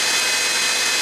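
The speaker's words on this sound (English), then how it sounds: "Starts the air extraction." A CNC router's air extraction system runs with a loud, steady broadband whoosh of rushing air, close and unbroken throughout.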